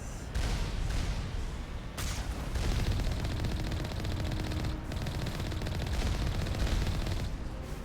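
Turrets firing in the Mass Effect video game, a dense, continuous roar of rapid gunfire and explosive blasts filling the scene without pause, loud and close with no voices.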